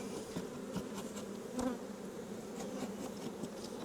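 Agitated honey bees at a hive preparing to swarm, a dense continuous buzzing drone close by with individual bees flaring louder as they pass, no voices.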